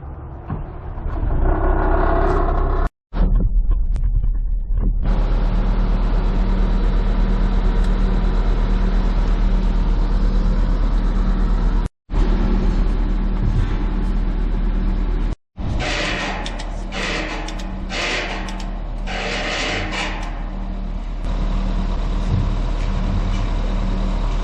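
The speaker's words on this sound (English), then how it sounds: "have the skid steer pull on the top, try to tweak it back square." A skid steer engine rumbles loud and steady nearby while it pulls on a strap hooked to a steel gate for a 20-foot opening. The heavy drone runs throughout, broken by a few brief cuts.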